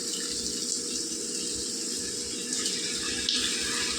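Water pouring into a pan of tamarind curry with garlic and boiled eggs, a steady close splashing gush that runs unbroken for about four seconds without any talk.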